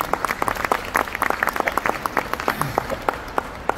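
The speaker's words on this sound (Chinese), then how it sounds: "给他一个掌声好吧" Audience at a leadership training conference claps in a lively, moderately loud burst of distinct hand claps that tapers slightly toward the end.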